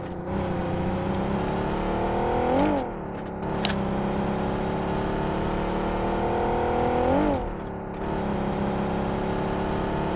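A car engine drones steadily while driving in the video game PUBG Mobile. The pitch dips and climbs twice as the engine shifts or revs, and the loud, continuous motor is heard alone.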